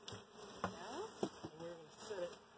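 Honeybees buzz around an open beehive as the inner cover is handled, a faint, steady hum with thin whining tones, while soft voices and light handling knocks break in now and then.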